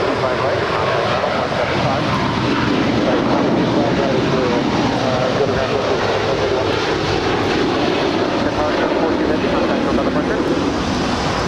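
An ITA airliner rolls for takeoff on the north side of LAX with a loud, continuous engine roar that holds steady throughout, close and broadband, with no break.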